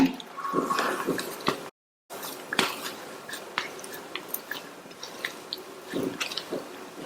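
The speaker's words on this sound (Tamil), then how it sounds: "இதுக்கு தேவையான அளவு உப்பு சேர்த்து நல்லா கையை வச்சு ஒண்ணா பிசைஞ்சிருங்க." Hands knead chopped curry leaves, coriander leaves and salt together for a chili bajji stuffing, making soft, close, irregular squishing and crunching rustles with no talking.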